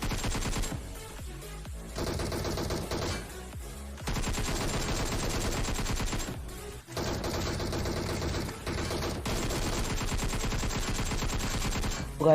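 Rapid automatic gunfire in the PUBG Mobile video game, several sustained bursts of shots separated by short pauses, loud and close, with no talking.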